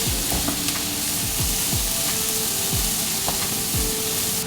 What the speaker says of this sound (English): Now that there's a lovely amount of colour on the onions, I'm going to add the peppers. Stir that through.